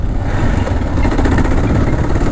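A 2016 Kawasaki KLR 650 motorcycle engine pulls steadily on the road, a loud, continuous mid-pitched drone heard up close with no voices over it.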